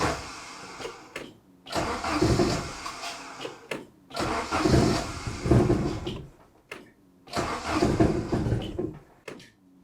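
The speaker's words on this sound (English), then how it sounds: "Let's try to turn the key. Oh yeah, it is trying to start." A Saab 900 with K-jet injection and a faulty cold start valve cranks repeatedly without catching, four loud bursts of starter churning separated by short pauses, close up.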